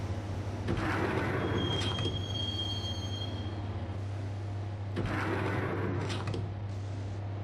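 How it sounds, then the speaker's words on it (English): Subway train ride in the Max Payne video game, a steady loud rumble of wheels on track with a constant low hum, thin metallic squeals of wheels on rails and two sharp clattering jolts as the carriage rolls on. "the train doors had already shut behind me, and I was in for the ride."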